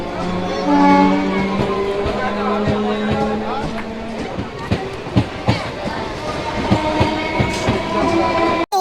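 A train on the Murshidabad rail line slows down, its wheels clattering with irregular clacks and a drawn-out metallic squeal ringing over a steady rumble, while voices murmur nearby.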